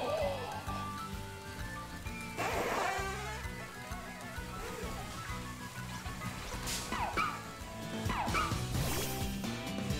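A dog Pokémon in Pokémon Scarlet gives a few short, yipping barks amid crashing game effects and background game sound, fairly faint overall.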